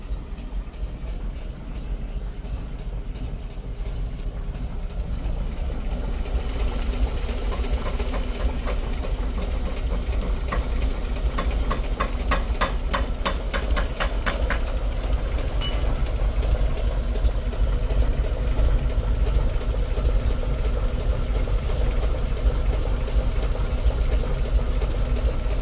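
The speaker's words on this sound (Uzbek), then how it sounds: "Gaz 53 dan TKO'da motorining ovozi baland chiqyapti yondan o'tayotganda." A GAZ-53 truck with a new engine runs steadily and loudly close by, a constant low rumble with a faint mechanical whine layered over it and no voices.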